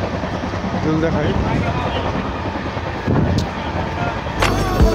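Passenger train wheels rumbling at speed on the Vivek Express heard from beside the open door of a general coach, a steady loud roar with clacks near the end, and a voice talking briefly over it.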